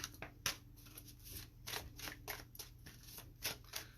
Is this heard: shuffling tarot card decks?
yes